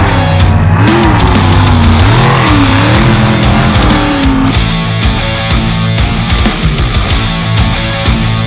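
A mega truck's racing engine revs hard and loud at an off-road race event, its pitch rising and falling through repeated throttle bursts with a roaring, continuous drone.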